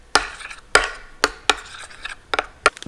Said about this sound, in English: I'm just gonna mix it all up.